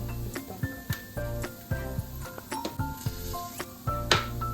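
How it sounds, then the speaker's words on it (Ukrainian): Flour toasting in a frying pan: faint sizzling and scraping, with repeated light taps of a utensil against the pan over a low steady hiss. "На окремій сковорідці я обжарю муку."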